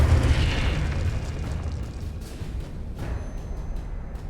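A Confringo spell explosion in Hogwarts Legacy, a loud, deep boom that rumbles out and decays into crackling debris over a few seconds.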